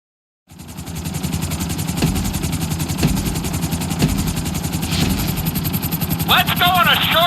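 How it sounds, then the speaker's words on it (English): Helicopter in Grand Theft Auto: San Andreas, its steady rotor and engine drone filling the scene at close range. Sharp periodic thumps and background talk sit on top of the sound. "we'll see how well you handle the chopper"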